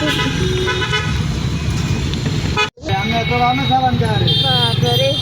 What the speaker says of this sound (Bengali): বৃষ্টির জন্য তো জ্যাম হয়েছে রাস্তায়